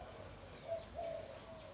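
A faint, low coo of a decoy dove sounds a couple of times in the distance over a quiet outdoor background hiss.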